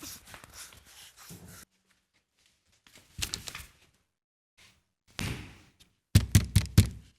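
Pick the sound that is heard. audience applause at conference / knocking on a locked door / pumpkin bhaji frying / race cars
knocking on a locked door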